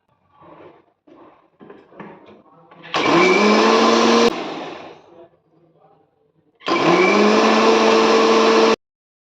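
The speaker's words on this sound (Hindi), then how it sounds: "अब मैं ये पानी निकाल लिया है इसको मिक्सी में पीस लूँगी" A mixer grinder roars loudly in two separate bursts of whirring while grinding vegetables for soup, with a quiet pause between them, after some soft talking at the start.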